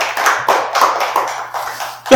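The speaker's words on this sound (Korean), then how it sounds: "우리 영광의 박수 한번 돌리겠습니다" A church congregation claps during a worship service, a loose, uneven run of hand claps in a reverberant hall, steady and fairly loud, with a low electrical hum underneath.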